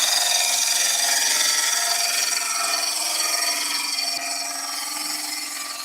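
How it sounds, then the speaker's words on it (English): Steady, continuous abrasive rubbing against a rippled ash wooden bowl, a bright hissing scratch that holds at an even level throughout, gradually easing slightly toward the end. "A little bit of sanding on there as well in a moment."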